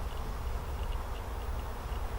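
Honeybees hum on a hive frame during requeening, giving a dense steady buzz close up with a low rumbling undertone, no talk.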